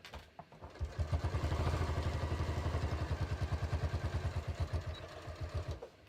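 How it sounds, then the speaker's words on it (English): A sewing machine runs a short back tack through fabric, its needle clattering in a fast, steady rhythm that starts, holds for several seconds and stops, close by and fairly quiet with no talking. "So I'm just going to back tack here. I'm just going to sew straight up."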